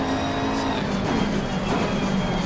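A McLaren race car in Assetto Corsa Competizione accelerates hard, its engine a loud, close, sustained roar with rising harmonic tones and a steady, unbroken drone throughout.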